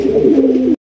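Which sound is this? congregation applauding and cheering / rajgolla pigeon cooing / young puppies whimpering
rajgolla pigeon cooing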